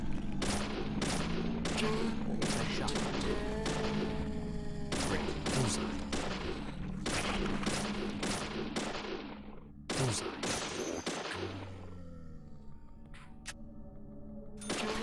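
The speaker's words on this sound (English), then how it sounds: "shooting shadows from afar can take a while" Gunfire from shooting shadows in the horror game Deadly Premonition, set in a lumber mill: rapid, loud, sharp shots in dense volleys with short ringing tails, pausing briefly before another burst and a few scattered final shots.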